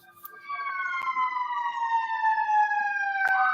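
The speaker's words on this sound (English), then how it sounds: "I believe I heard both fire engines coming out" Fire engine siren out on the street, a single wailing tone sweeping downward as it passes by, moderately distant, with a couple of sharp clicks or bumps nearby.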